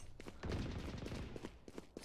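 Rapid bursts of gunfire in the shooter game Valorant crackle through the stretch, with a dense volley early and sharper scattered shots later, loud and close without speech.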